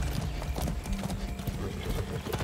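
Horse hooves clip-clop steadily on the ground in the video game Far Cry 6, with a brief whinny; the rhythmic hoofbeats are close and continuous under light game ambience.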